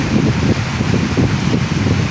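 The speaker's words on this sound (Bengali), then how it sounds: "বাতাস মনে হয় যে উড়িয়ে নিয়ে যাবে" Strong wind roars through heavy rain at night, a dense, loud, unbroken rush with gusty swells and no voices heard.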